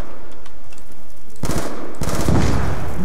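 Loud bursts of automatic gunfire from a weapon in Call of Duty: Black Ops 2 Zombies on the farm map, after a quieter stretch of a second and a half, then two dense, rapid volleys close up.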